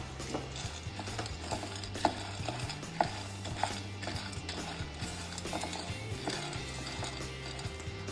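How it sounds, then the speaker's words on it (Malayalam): Peanuts are stirred in a pan while roasting, giving light scraping and rattling with occasional sharp knocks over a steady low hum. "കളറ് മാറുന്ന വരെ ഇളക്കി കൊടുക്കാം."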